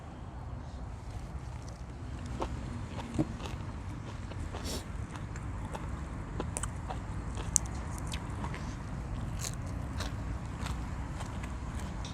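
Someone chews a crunchy, spicy Thai beef tripe salad served with bitter melon. Small crisp crunches and clicks repeat close up over a soft, steady background hiss.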